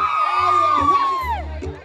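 Women at a wedding and quinceañera party letting out a long high whooping shout that bends up and down over about two seconds, loud and close, with low booming music underneath.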